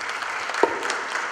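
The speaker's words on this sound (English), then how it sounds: "Applause, please" At a radiographers' conference session in Bali, an audience gives a short burst of applause, a thin spread of clapping with one sharper clap standing out near the middle.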